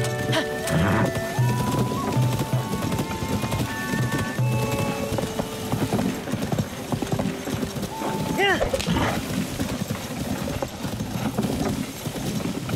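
Hooves clip-clop steadily with a short neigh from a horse in Zelda: Tears of the Kingdom, mixed into busy game music and voices talking over the top.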